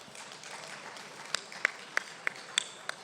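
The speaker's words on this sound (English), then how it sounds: "I like the smattering of applause" A sparse smattering of audience applause at a keynote luncheon, faint background murmur punctuated by a handful of distinct individual claps spaced out over a few seconds.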